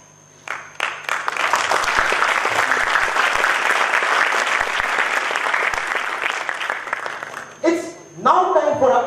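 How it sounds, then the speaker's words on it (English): An audience at a Toastmasters meeting claps in sustained, enthusiastic applause that fills the room for several seconds, then fades as a voice begins speaking at the end. "please applaud energetically and enthusiastically for all our"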